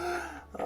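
A puppy lets out a short, low grunt close by, a brief throaty rumble followed by a quick huff.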